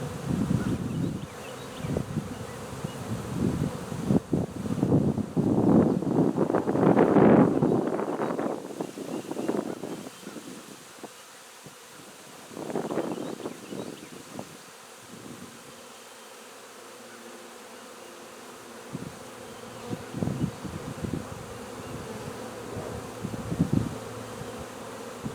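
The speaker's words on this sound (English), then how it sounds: "That's bunches of bees" A dense, droning buzz of a honey bee swarm, loudest at the start and then easing off, with some gusty wind noise underneath.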